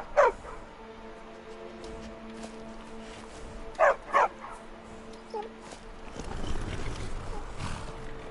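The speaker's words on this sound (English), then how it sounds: "A war dog is good company and good protection." A war dog in the video game Skyrim gives a few sharp barks and yips with whimpering between them, in short separated bursts, followed by a rising rumble of background noise.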